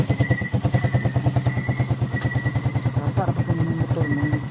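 A motorcycle engine chugs in a fast, even, loud pulsing rhythm close by as it is started and runs at idle, with faint background noise.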